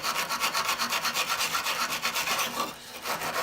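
A small stainless steel wire brush scrubs a chemically stripped surface in quick, even back-and-forth strokes, loud and close, then pauses briefly near the end.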